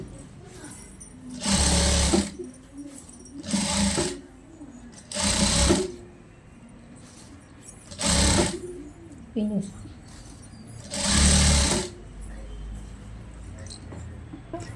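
Sewing machine stitching a long frock sleeve, whirring in five loud bursts of a second or so each, separated by pauses where someone talks quietly.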